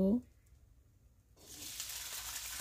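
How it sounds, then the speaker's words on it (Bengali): Flat beans hitting a hot wok in a home kitchen, a sudden steady hiss of frying that rises and continues after a brief quiet moment, fairly soft and close. "তারপর সিম ভাজিটা কড়াইতে দিয়ে দেব।"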